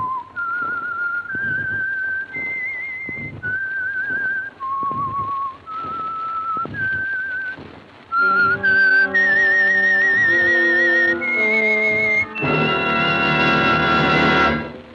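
A lone whistler carries the eerie theme tune that marks the Signal Oil radio program The Whistler, a string of clear sustained notes. Brighter, sharper tones join near the end, and no one speaks.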